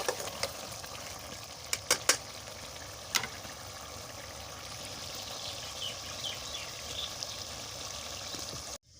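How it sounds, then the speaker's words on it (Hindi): Water trickles and pours steadily into a cooking pot for chicken pulao, fairly quiet, with a few sharp clinks near the start. "अभी हमने डाल दिया पानी"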